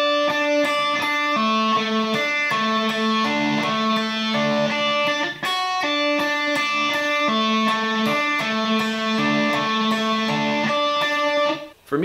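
Electric guitar playing an intro lick, a fast, repeating melodic phrase of bright, sustained notes played twice in a row, loud and clean with no talking.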